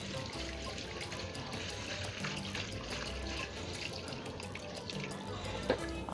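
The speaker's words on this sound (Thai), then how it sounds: "ผมล้างกระชอนหน่อยนะครับ" Steady running tap water splashes onto a net strainer being rinsed, a continuous broadband gush with small clatters and a brief sharp knock near the end, no talking.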